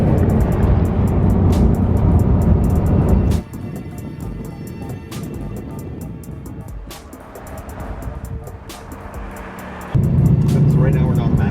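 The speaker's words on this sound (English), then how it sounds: "We pulled out, we haven't really gone too fast yet, we've just been cruising, and it cruises amazingly." Bugatti Chiron cruising gently, heard from inside the cabin: a steady, smooth engine and road drone that drops quieter midway and then swells louder again, with no words spoken.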